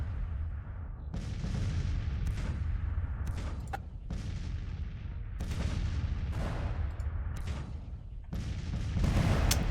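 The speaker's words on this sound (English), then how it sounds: "They still have their cannons." Cannon artillery in a Grand Tactician Civil War battle, repeated booming shots at irregular intervals over a dense rumbling battle din, some near and loud, others farther off.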